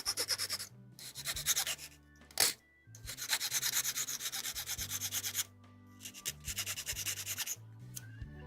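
Nubs on a 1/72 HG Bandai plastic model kit leg from AMAIM Ghost are cleaned off with close, repeated scratchy rubbing and sanding strokes in rhythmic bursts, broken by brief pauses and a sharp click.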